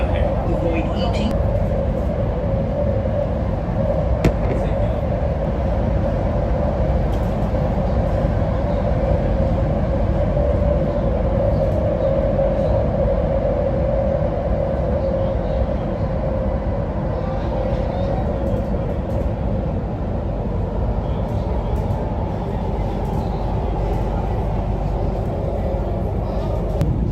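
Steady low rumble of a Delhi Metro train running, a continuous broad roar with a sustained tone throughout, close and fairly loud, with a faint announcement voice in the carriage.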